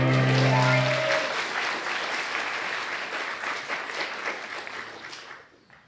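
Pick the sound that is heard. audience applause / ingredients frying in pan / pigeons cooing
audience applause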